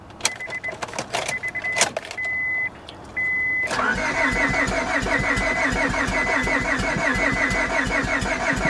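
Honda car engine cranking over with uneven compression and a misfire, only firing on a couple of cylinders: a few short starter whirs and chimes, then a long loud rough cranking chug that keeps going, no voices.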